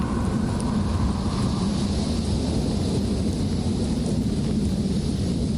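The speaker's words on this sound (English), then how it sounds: "Whoa, it's windy!" Wind blowing in Minecraft during a Hermitcraft session, a loud, steady, broad rushing roar that fills the whole stretch without a break and with no talk over it.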